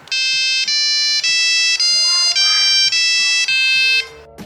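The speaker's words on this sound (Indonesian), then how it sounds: "Untuk bawaannya ini kan dikasih 36 ringtone." Nokia 1100 mobile phone playing one of its built-in monophonic ringtones: a loud, bright electronic beeping melody in about seven repeated bursts over four seconds, alone with no talking, ending abruptly.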